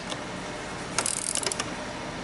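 Quick clicking of a ratchet tightening hose clamps on the turbocharger pipes of a Ford Mustang EcoBoost, a short close burst of rapid clicks over steady background hiss.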